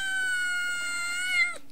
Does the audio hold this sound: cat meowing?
yes